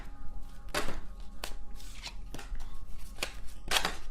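Tarot cards are shuffled by hand in several quick riffling bursts, soft papery flutters and taps close up, quiet and irregular with no talk.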